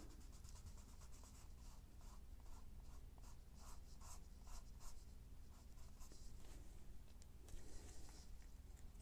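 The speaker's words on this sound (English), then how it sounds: "start off with light strokes on the side of your pencil" Pencil strokes on paper during a stone drawing, light strokes made with the side of the pencil: a steady, close scratchy rubbing that repeats in short pulses without pause over a low background hum.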